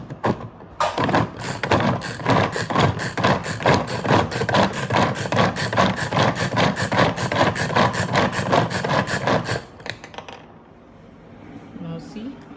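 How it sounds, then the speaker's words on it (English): A knife chops green chili on a board in fast, steady, evenly spaced strokes, close and clear for about nine seconds before stopping. "Now we'll just chop it."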